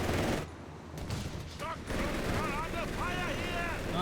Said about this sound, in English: Mortar fire! They're barraging us!